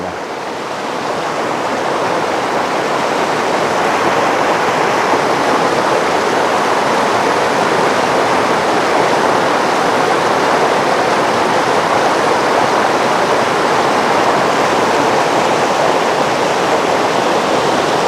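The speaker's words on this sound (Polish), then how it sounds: "Posłuchajmy tego szumu przepływającej wody." Steady rushing water of a small stream, a continuous broadband roar that holds constant throughout with no voices.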